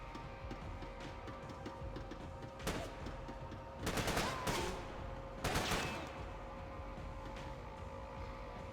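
Laser-sighted gunfire in Max Payne 3 cracks out in three or four sharp, echoing bursts over a low, steady game ambience, moderately loud and spaced a second or two apart.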